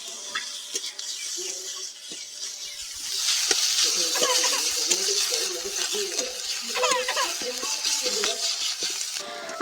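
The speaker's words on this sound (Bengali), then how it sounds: "এবার দিয়ে দিব আদা রসুন বাটা বেশ ভালো করে ভেজে নেব যতক্ষণ না কাঁচা গন্ধটা চলে যাচ্ছে" Ginger garlic paste frying in hot oil for a hotel-style curry gives a hissing sizzle that swells louder after a few seconds, with occasional stirring scrapes and bubbling pops close by.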